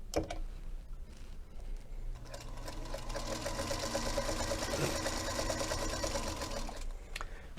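A Featherweight sewing machine stitches fabric: a quiet start gives way to a steady, fast mechanical whir and needle chatter that runs evenly to the end, close and alone.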